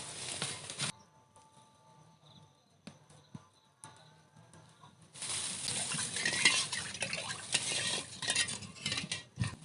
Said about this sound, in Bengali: খুন্তিটাকে একটু নেড়ে দেবো।